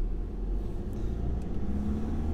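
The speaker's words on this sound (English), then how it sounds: "That's a Porsche, isn't it? The silver one." A silver Porsche drives on a road in Guernsey, heard as a steady low engine and tyre rumble that stays even and fairly near throughout, with no talk.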